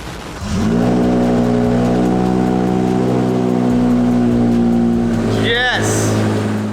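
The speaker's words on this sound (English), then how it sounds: "now we just gotta turn on the car for the first time since doing the rod bearings" A BMW E60 M5 engine cranks and fires up for the first time after a rod bearing job, settling into a loud, steady idle close by, with a brief shout near the end.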